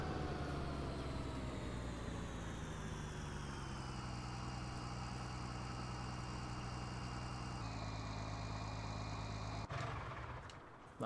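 A heavy skid steer engine runs steadily in Farming Simulator 19, a loud continuous droning rumble held at constant RPM, shifting pitch slightly before cutting off near the end.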